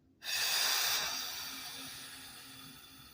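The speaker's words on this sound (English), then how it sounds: "And breathing out through your mouth." A single deep exhale through the mouth during a guided meditation breathing exercise, a soft breathy rush that starts suddenly, close and alone, then slowly fades over about three seconds.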